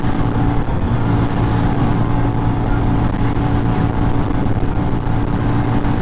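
Kawasaki Rouser NS125 FI 125cc motorcycle at full throttle in fifth gear on a wet downhill road, a steady loud buzzing engine drone with wind rush that holds unbroken throughout.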